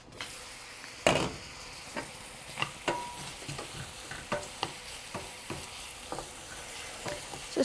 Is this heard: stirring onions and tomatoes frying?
yes